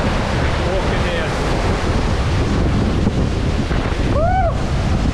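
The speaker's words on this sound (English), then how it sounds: "you can hear that wind, just the force of it" Strong wind blows hard beside the ocean with crashing surf, a constant loud roar buffeting the microphone, with a faint bird call near the end and no talking.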